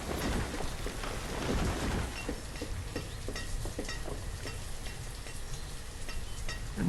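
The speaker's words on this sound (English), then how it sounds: "it's probably gonna be raining quite a lot, seeing as it is on the harsh setting" Steady rain hisses under low rolling thunder in the city-building game Banished on its harsh setting, a dense, continuous wash of sound with no voices.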